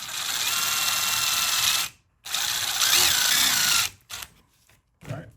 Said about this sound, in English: once we have the hole drilled out there, we can assemble this now